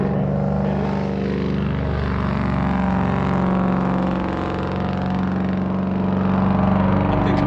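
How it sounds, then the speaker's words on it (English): A steady V8 engine in a Dodge Challenger Scat Pack drones loudly and continuously, a low rumbling idle with a constant hum and no voices. "It's actually a pretty nice engine."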